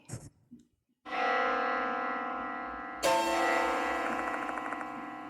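A couple of faint knocks, then a loud, resonant church bell strike ringing out with long sustain, followed by a second strike that layers over the fading tone, in the horror video game Death Mark 2.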